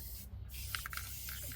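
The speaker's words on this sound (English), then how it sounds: "take the spray adhesive, shake it up to the recommended time" Spray adhesive hisses from an aerosol can during a bike tire label repair, a quiet steady spray with a few short bursts and clicks close by.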